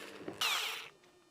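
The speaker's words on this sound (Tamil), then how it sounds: "அதுக்கு முன்னாடி சென்டர்ல ஒரு ட்ரில் போட்டுக்கிறேன்." A hole is drilled into the centre of a piece with a power drill, a short, loud whine bursting in and tapering off over about half a second, preceded by brief handling clicks.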